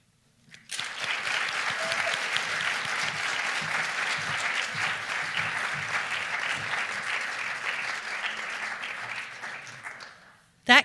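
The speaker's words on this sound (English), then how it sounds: "We're going to have another round of applause for all those phenomenal reciters." An audience applauds after poetry recitations at a recitation competition, producing a sustained, dense clapping that rises quickly, holds steady for about ten seconds, then tapers off.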